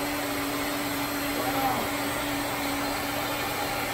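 A Shark Navigator Swivel Plus upright vacuum cleaner runs with a steady, loud, unbroken motor roar and hiss that holds its pitch throughout.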